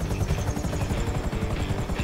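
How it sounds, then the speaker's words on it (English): A helicopter sits idling in a video game, its rotor thumping in a steady, fast, close whir throughout with no pauses. "I'm just sitting in a helicopter"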